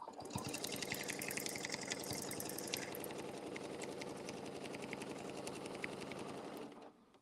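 A sewing machine runs continuously at a steady fast stitch while quilting a placemat on foam, close and even throughout before stopping at the end.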